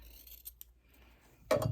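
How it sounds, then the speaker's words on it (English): Scissors trim a quilt binding strip close to a freshly sewn fabric seam: after near silence, a single sharp snip and crunch of the blades cutting cloth at close range. "you can just use your scissors and trim about a 1/4 inch or so away from the seam"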